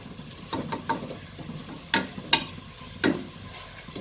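Ingredients for mushroom biryani frying in a pan, with a soft steady sizzle broken by a few sharp spatula scrapes and knocks spaced irregularly, close by and with no talking.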